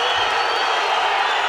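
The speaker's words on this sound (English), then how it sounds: "The crowd is loving this right now" A boxing arena crowd roars in a steady, loud wash of cheering and hubbub with no clear breaks, like fans at a heavyweight bout reacting to action in the ring.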